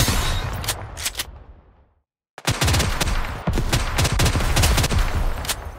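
Bursts of rapid gunfire from the shooter video game Nikke, loud and dense, with a brief silent gap early on before continuous automatic firing resumes, no speech.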